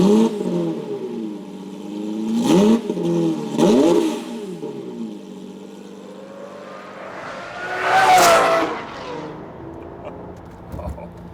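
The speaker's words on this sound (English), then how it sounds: "It never gets old putting your foot down in a Murcielago." A manual Monterey Blue 2007 Lamborghini Murcielago LP640 accelerating hard, its loud engine note climbing and swelling to a sharp peak before easing off, heard close from inside the moving car.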